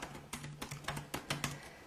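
Typing on a computer keyboard, about eight quick, quiet key clicks in an uneven rhythm, close up and alone.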